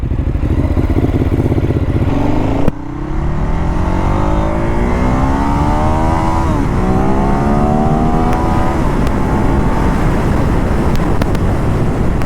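A Ducati Hyperstrada 939 motorcycle engine revs hard and accelerates, pitch climbing through gear changes, loud and close with wind rushing past.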